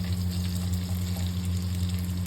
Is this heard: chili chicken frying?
yes